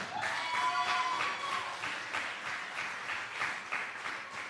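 A crowd at a youth mayors' forum in Jamaica applauds steadily and loudly, many hands clapping together without a break.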